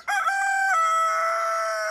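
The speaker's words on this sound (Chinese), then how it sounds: "刚才看到那个地方也有一只母鸡进去了" A hen on a mountain farm calls out with one loud, close, drawn-out squawking cry lasting about two seconds, alone with no talk.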